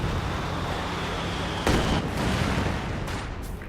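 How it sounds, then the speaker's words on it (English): A Katyusha rocket barrage in a tank video game, with steady rumbling fire and a sharp loud impact burst partway through, followed by further crackling explosions. "Katyusha barrage coming in."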